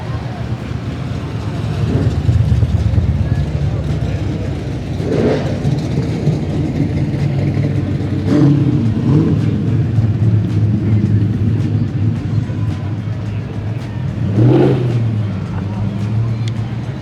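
Car engines rumble and rev at a cruising car show with over 500 cars, a steady low drone with a few swelling revs over a lively crowd babble.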